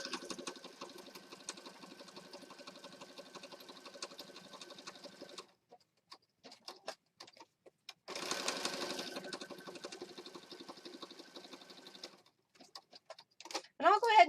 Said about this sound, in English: I'm just going to stitch right along this edge